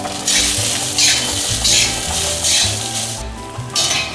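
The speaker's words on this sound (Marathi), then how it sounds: "हे कांदे देखील आपल्याला भाजून घ्यायचे छान" Three large chopped onions roasting in a hot pan for a lima bean curry, with a steady loud sizzle and repeated scraping stirs of a spoon against the metal, the frying constant throughout and no voices.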